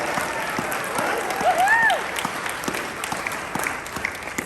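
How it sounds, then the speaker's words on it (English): Guests at a chamber of commerce gala applaud the master of ceremonies in a large room, a broad, even wash of clapping with a brief whoop and crowd murmur. "let's give Bob Tucker, our MC, a big round of applause"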